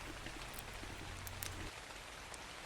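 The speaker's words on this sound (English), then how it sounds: "Sadly, it's raining" Steady rain in the video game ARK: Genesis 2, a soft continuous hiss of falling drops with a faint low hum underneath that drops away partway through.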